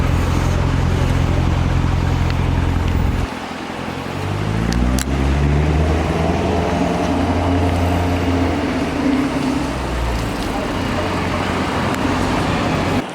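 A Corvette C7 sports car idles at a traffic light, then pulls away with a rising, shifting engine note that climbs through the gears, loud and close, over background street traffic.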